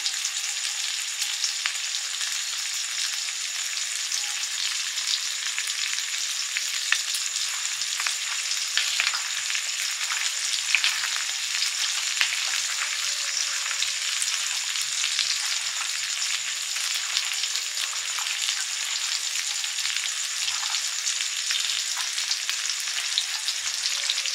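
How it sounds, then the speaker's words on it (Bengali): Tangra fish fry in hot oil in a pan, giving a steady, even sizzle that runs on without a break, fairly close and alone with no voices. "ট্যাংরা মাছগুলো ভাজা হয়ে গেছে, সব তুলে নিচ্ছি।"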